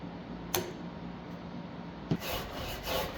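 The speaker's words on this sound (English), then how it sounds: "I'm carving a bunch of flat facets into the back of the neck" Wood rasping and rubbing as flat facets are carved into the back of a guitar neck, a steady close scraping texture broken by a couple of sharp knocks, with no talking.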